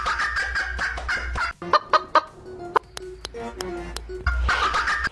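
A hen in Gujarat and other fowl give loud, close squawks and rapid gobbling calls in bursts, with sharp clucks and brief pauses between them.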